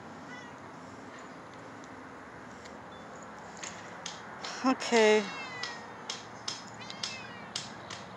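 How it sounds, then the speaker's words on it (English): A cat meows a few times in quick succession, fairly close, with soft clicks and background noise around it; a person says a single word. "It's only when I walk outside this fence she starts meowing."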